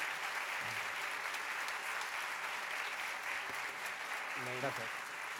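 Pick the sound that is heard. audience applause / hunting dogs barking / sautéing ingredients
audience applause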